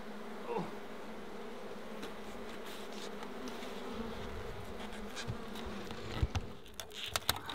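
Honey bees buzzing as a steady, close drone during a hive inspection in the mallee bush, with a few clicks and knocks toward the end.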